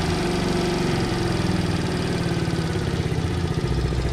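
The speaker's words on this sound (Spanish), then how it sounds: "La motocicleta encendió bastante acelerada, así que vamos a bajarle un poco la revolución." A Cerro C70-7 70cc motorcycle engine idles fast after starting, putting out a steady, even mechanical putter with a rapid regular rhythm, close and continuous.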